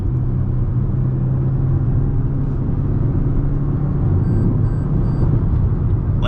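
A 2022 Toyota Corolla Hybrid accelerates onto a freeway, heard from inside as a steady, loud engine and road rumble with a few faint electronic chimes near the end.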